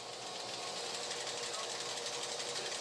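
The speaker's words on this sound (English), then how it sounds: "After a twirl in this high-powered polisher, they are still not smooth enough." A high-powered polisher buffing silicon wafers in a chip fabrication plant gives off a steady, dense whirring drone that holds unbroken and fairly loud throughout, with no pauses.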